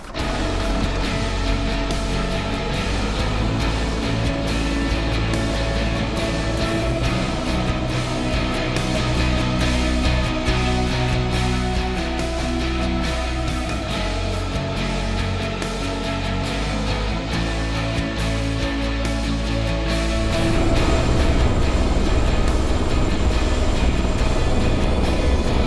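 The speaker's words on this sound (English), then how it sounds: "We're gonna get down to the helicopter, we're gonna load the bird and fly into the San Juans" A helicopter's engine and rotors drone loudly and steadily up close, then the pitch shifts and the roar swells toward the end, on a heli-skiing flight into the San Juan Mountains near Telluride, Colorado.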